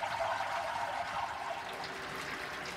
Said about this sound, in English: And we're sparging away there.